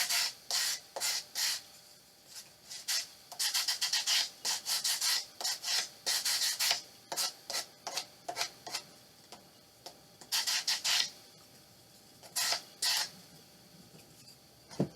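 A thin wood shim is scraped and distressed with rapid back-and-forth strokes, making a close, dry rasping that comes in quick bursts with short pauses between them and no voices.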